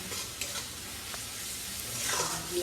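Fish curry with ginger, garlic and onion being sautéed and stirred in a pan, giving a steady close sizzle with faint scraping stirs that swell louder toward the end, and no talk.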